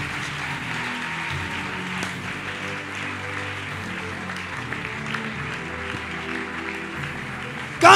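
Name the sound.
audience applause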